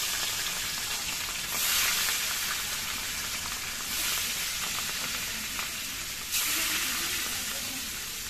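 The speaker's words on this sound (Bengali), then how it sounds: "তেলটা গরম হয়ে গেছে, এবার মাছগুলো ভেজে নিচ্ছি।" Pieces of rohu fish fry in hot oil in a wok, giving a continuous close sizzle with a few louder hissing surges as the fish go in and the oil spits.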